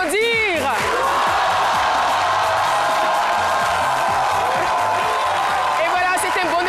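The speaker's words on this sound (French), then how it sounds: "Vous pouvez vous applaudir." A studio audience on a midday television show bursts into sustained applause mixed with cheers and whoops, a loud, continuous crowd roar with voices calling out over the clapping.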